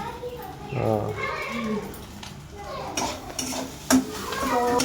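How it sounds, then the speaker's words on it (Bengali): An egg fries in a pan at home, giving a low sizzle with stirring and clinks of utensils against cookware, while someone talks over the cooking sounds. "তোমাদের দাদা ভাই আমার ডিমটা ভেজে দিচ্ছে"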